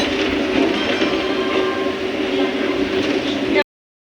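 A train rumbles steadily at Bandel station in India, a continuous rolling roar with faint rail clatter that cuts off abruptly after a few seconds.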